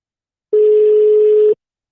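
A single steady electronic ringback tone on an outgoing telephone call, about one second long, loud and clean against silence.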